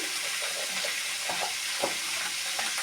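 Chopped tomato sizzles in a hot frying pan of spiced oil with turmeric, a loud steady hiss close by, broken by a few soft stirring scrapes and no talk.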